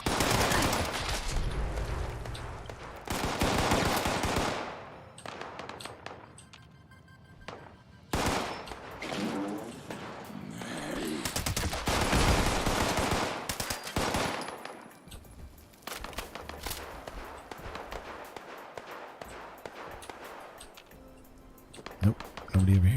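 Gunfire in Fallout 76 comes in repeated loud automatic bursts separated by short pauses, with a voice talking over and between the volleys.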